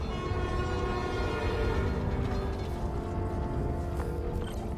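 New York subway train in the Spider-Man: Miles Morales video game, a steady rumbling rail drone with a sustained horn-like tone, heard alone at moderate level.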